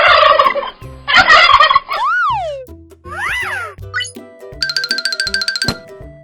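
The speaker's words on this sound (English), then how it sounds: "Turkey." A turkey gobbles in two loud, rapid rattling bursts, followed by playful swooping tones, a chime and a jingling flourish, with no voices.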